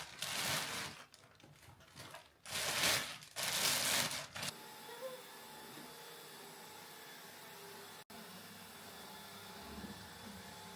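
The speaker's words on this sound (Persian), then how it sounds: "چرا ما این جارو برقی خریدیم و دایسن نگرفتیم" Vacuum cleaner running in loud bursts of broadband roaring airflow that surge and drop several times in the first few seconds, then give way to a quieter steady hum.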